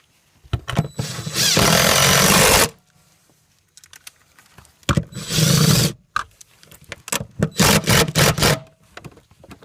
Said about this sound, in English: I'll bolt the seat bracket back on.